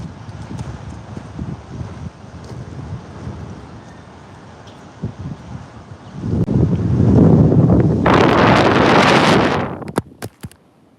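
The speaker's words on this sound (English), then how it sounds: "Windy day out there." Wind on a windy day, low buffeting rumble that builds into a loud sustained roar against the microphone, then cuts off with scattered knocks.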